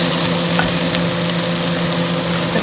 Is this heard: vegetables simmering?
yes